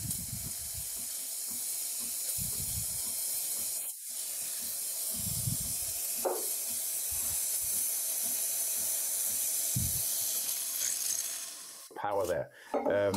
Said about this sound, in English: keep on steaming continuously until you really get the maximum full steam power, and only then start frothing